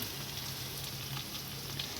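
Paneer and potatoes frying in a pan for a Bengali lunch, a steady close sizzle with soft crackling that holds level throughout, no talking.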